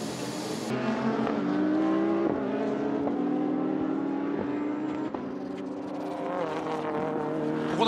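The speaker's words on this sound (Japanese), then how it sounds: "BRZ が入ります。 四輪交換ですね。 四輪全部変えますね。" Subaru BRZ GT300 race car during a pit stop with a four-tire change at a SUPER GT race at Motegi, engine and racing-car noise loud and continuous, with clicks and brief sharp transients over the steady roar.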